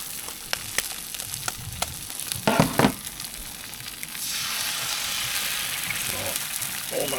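Bacon, egg and sausage fry in a pan with crackling sizzle and scattered pops, a few louder bursts midway, then a denser, steady hiss toward the end.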